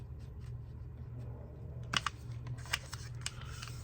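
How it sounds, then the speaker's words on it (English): A paper card for a junk journal booklet being folded over and creased by hand, heard as faint scattered crinkles and short dry clicks over a low steady hum. "fold it over like that."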